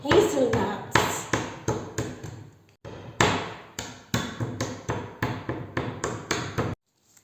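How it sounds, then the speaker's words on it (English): Hazelnuts being cracked with a meat tenderizer while preparing mince pies: a steady run of sharp, loud knocks and thuds, roughly two or three blows a second with short pauses, close and alone. "use the meat tenderizer to crack or chop the hazelnuts"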